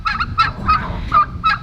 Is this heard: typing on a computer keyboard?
no